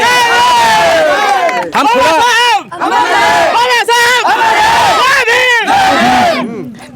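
A large crowd at a rally chants a slogan in loud rhythmic unison, repeated shouted calls filling the space with voices, close and powerful throughout.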